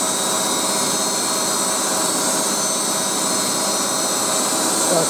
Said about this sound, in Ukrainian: Шліфуємо.